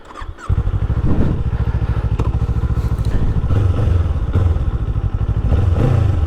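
A cruiser motorcycle engine in cold 20-degree weather starts up and settles into a loud, steady, close-up throbbing idle and rev as the ride begins, with a deep rhythmic pulse running throughout and no talk.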